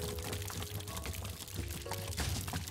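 Water pours steadily in the video game Good Job!, a continuous faint splashing trickle layered over soft background music with no talking.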